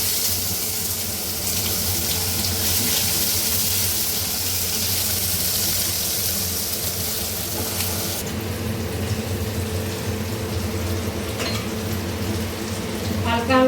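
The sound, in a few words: onions frying in pan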